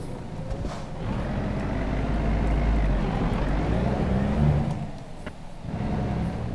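A heavy truck engine in American Truck Simulator drones steadily at low pitch, rising slightly as the rig pulls and works through its gears, with no talking.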